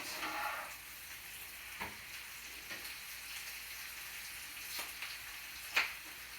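Onions caramelizing golden in a pan, a soft steady sizzle with faint crackles and a few light stirring scrapes, quiet and close with no talking.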